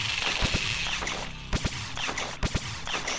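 Gunfire in the video game Last Rites: several sharp shots in small bursts, the first around mid-clip and a later pair, cutting loudly through a dense, constant background of game music and ambience.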